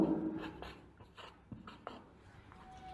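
A marker or chalk is being written on a board during an English lesson, giving a series of short scratchy strokes in uneven rhythm, faint and close, with no talking over them.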